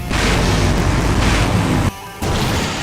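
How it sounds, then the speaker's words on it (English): Massive explosion in the game Full Throttle Remastered, a loud roaring blast with heavy rumble that cuts briefly to quiet and resumes as a lingering booming wash. "Now that's an explosion, ladies and gentlemen"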